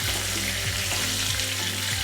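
Potatoes fry in hot oil with a little turmeric and salt, giving a continuous close sizzle with soft bubbling and occasional stirring scrapes, and no voices.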